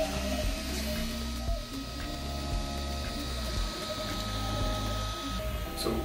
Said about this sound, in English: And this is the 3D printer.